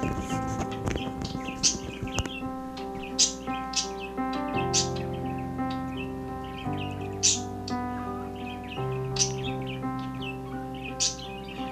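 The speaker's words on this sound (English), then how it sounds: "Sorry if you guys hear my birds in the background." Pet birds indoors chirp repeatedly in short high bursts, tweeting loudly in the background over sustained instrumental chords.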